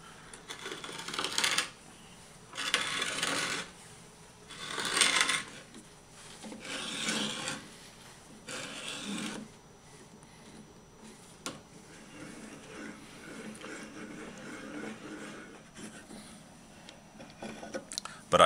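A wooden dowel is twisted through a wooden thread box with its cutter, giving a few raspy rubbing scrapes in short bursts early on, followed by quieter intermittent scratching.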